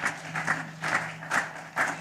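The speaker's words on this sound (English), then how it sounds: "Give them a round of applause." Bursts of audience applause with scattered claps at a certificate presentation for hotel staff, swelling in several waves over a steady low hum.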